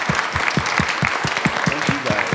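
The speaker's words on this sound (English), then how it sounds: "I think we should start off with a round of applause." An audience applauds in a steady, dense patter of clapping hands, moderately loud and close, with a few faint voices mixed in.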